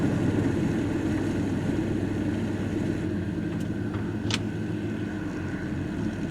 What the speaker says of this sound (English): We'll take it on a quick little test drive here to keep the miles low on it.